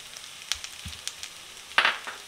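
Chicken and onion sizzle faintly in a pan while being mixed for a street-style chicken roll, with sparse crackles, light stirring clicks and one brief louder hiss burst.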